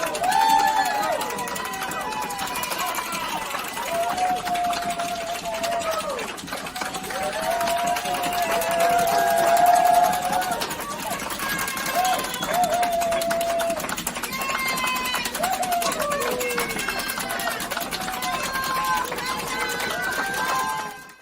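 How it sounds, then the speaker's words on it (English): A crowd cheering on Team Canada at Olympic curling in Beijing, sustained loud cheers and shouts with overlapping voices across the whole span, fading out at the end. "everybody's going to cheer with me. Go Canada, go!"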